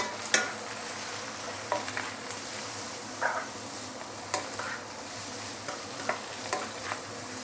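Egg and rinsed yellow noodles stir-frying in a pan for fried noodles with roast pork, a soft continuous sizzle broken by several sharp scrapes and clanks of a utensil stirring, with no talking.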